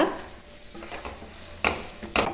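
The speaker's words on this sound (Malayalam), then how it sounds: "ലോ ഫ്ലെയിമിൽ തന്നെ വെച്ച് ഇളക്കി കൊടുക്കുക" Rasam spices sautéed in a pan over a low flame, stirred with a spoon: a soft steady sizzle with a few sharp scraping clinks of utensil against the pan near the end.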